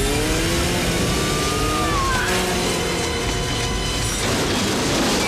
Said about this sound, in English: That's a huge jet engine that's about to cut this woman to ribbons.